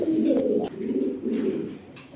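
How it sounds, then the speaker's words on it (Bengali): A pigeon coos in low, soft, rolling phrases, close and alone, with a brief pause between calls. "আপনাদেরকে কবুতরটা ডাক দেখাবো ডাক"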